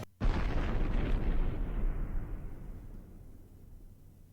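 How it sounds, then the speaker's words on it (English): An explosion in the game Steins;Gate Linear Bounded Phenogram: one sudden, loud, close boom that swells into a heavy rumble and slowly fades over several seconds, with no voices. "Is engulfed by the enormous sounds of an explosion and the waves of heat that come with it"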